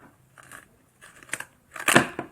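Scissors snipping through a Japanese Popin' Cookin' candy kit tray, three separate crisp cuts with short pauses, the last one loudest and closest.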